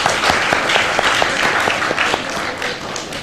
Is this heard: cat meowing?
no